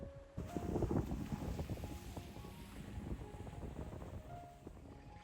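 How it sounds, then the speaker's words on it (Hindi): Wind blows steadily outdoors on a snowy day in Canada, a loud, rough rush with gusting buffets against the microphone, continuous and without talk. "ओहो, हवा चलनी शुरू हुई"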